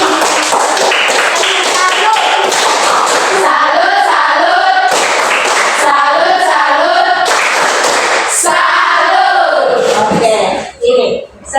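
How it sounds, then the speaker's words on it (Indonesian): A classroom group gives a rhythmic clapping salute, loud and dense broadband hand claps in repeated patterns lasting about ten seconds, with voices chanting along over it before it cuts off. "Kita berikan tepuk salut."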